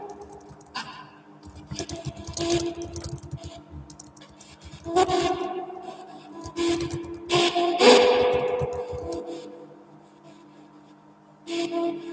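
Typing on a computer keyboard, entering names into a community tab during a late-night live stream: bursts of quick close clicking with pauses between runs, alone without talk.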